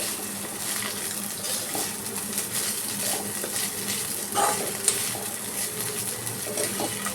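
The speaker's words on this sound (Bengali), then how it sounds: "এবার আমি পোহাটা দিয়ে দিচ্ছি, মানে চিড়েটা যেটা ছিল শুকনো, আমি অলরেডি জলে ভিজিয়ে রেখে ওটা পরিষ্কার করে রেখেছি। এটা আমি জাস্ট মিক্স করে নেবো।" Soaked poha (flattened rice) being stirred into a South Indian-style mixture in a pan makes a continuous soft, wet scraping and shuffling, with occasional light clinks, steady and close with no voices.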